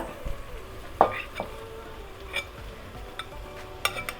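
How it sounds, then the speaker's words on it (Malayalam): Rice being stirred in a pan for tomato rice, soft scrapes and a few sharper utensil knocks over a faint background sizzle, fairly quiet and close, with no talking. "തീ കുറയ്ക്കുക എന്നിട്ട് ഇളക്കി കൊടുക്കുക"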